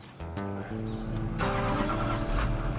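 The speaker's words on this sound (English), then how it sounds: "So jump in, start her up, Brandon." A heavy rotator tow truck's engine cranks briefly, then catches and roars to life, settling into a loud, rumbling idle close by.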